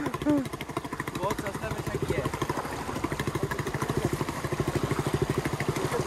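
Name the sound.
motorcycle engine while the bike is stuck offroad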